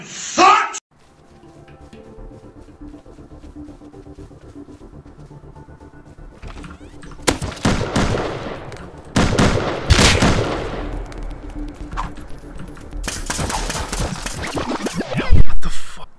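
Spears are thrown and strike in the survival video game Rust, heard as sharp broadband impact bursts clustered in the second half after a quieter stretch. A player talks over the action.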